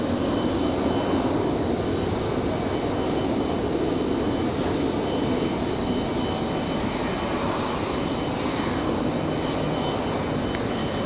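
An airliner arriving from Dallas-Fort Worth lands at Raleigh-Durham airport, its jet engines a steady, distant broadband roar that holds for the whole stretch without talk.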